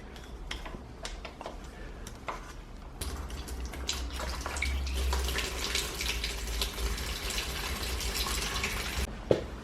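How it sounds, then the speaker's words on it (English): Engine coolant drains from a 2017 KTM 250 EXC into a bucket, a steady liquid trickle and splash that strengthens midway and runs continuously at moderate loudness, with small clinks early on. "I'm just going to remove the bolt and drain it into the bucket"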